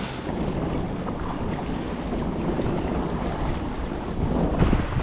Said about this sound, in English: we're cruising 7 knots under full sail